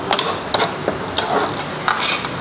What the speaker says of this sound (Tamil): கரைஞ்ச உடனே நம்ம வந்து பார்த்திங்கன்னா முந்திரி சேர்த்துக்கலாம்